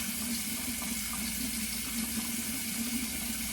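Hot water running steadily from a tap before shaving, a faint, even hiss and splash with no break.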